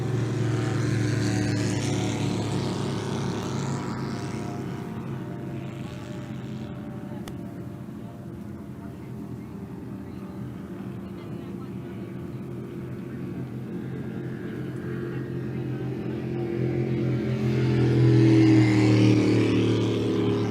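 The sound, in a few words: racing boats running at the Parker Enduro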